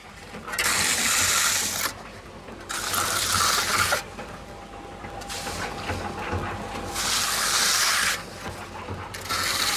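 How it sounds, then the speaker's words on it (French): Trowel smoothing a freshly poured reinforced concrete slab, rhythmic scraping strokes in repeated bursts of a couple of seconds each, close and moderately loud, with faint mechanical background between passes. "Et maintenant on prend la lisseuse. Et on vient tout simplement lisser le béton pour avoir une belle finition"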